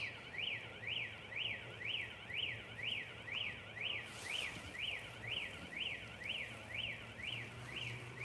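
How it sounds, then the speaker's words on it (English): An electronic alarm wails steadily from a nearby building at an old mental hospital, rising and falling in a fast, even warble with a constant low hum beneath it. "It sounds like it's coming from a building, that alarm."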